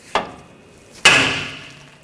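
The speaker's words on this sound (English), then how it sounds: "I'm just going to use a hammer and give it a tap." Two sharp metallic hammer strikes land about a second apart on the steering knuckle of a 2014-2020 Nissan Rogue to free the outer tie rod end, each ringing briefly and decaying, close and loud.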